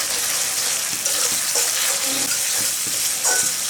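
Spice masala of turmeric, cumin, coriander and red chilli powders frying in a pan while being stirred, a loud, dense sizzle with a few soft scraping strokes of a spoon.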